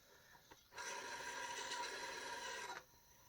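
Drill-driven sharpening stone grinding a lawn mower blade, one steady rasping grind lasting about two seconds, close and fairly quiet, with faint handling noise before and after.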